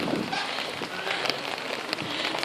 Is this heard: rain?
yes